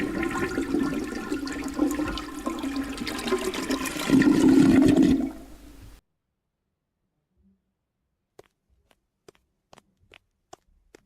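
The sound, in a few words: toilet flush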